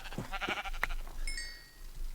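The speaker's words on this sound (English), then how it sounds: "There's a sheep drowning over there, drowning in the river." Sheep bleating in the Minecraft video game, a couple of short nasal bleats near the start followed by a thin high-pitched tone, with no talk over it.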